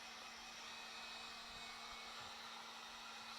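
A handheld hair dryer blows steadily on fresh paint on a DIY fall porch sign, a constant close whooshing hum with a faint tonal whine, unbroken and without speech.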